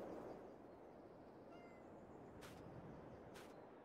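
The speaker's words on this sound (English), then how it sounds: "Oh no, they do go meow." A couple of faint cat meows from Farming Simulator 22 sound softly against a quiet, hushed background, with brief higher-pitched calls.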